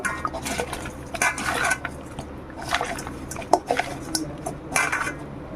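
Fish pieces being coated with turmeric and salt by hand in a metal bowl, with intermittent clinks, scrapes and wet squelching in irregular bursts, close and moderately loud.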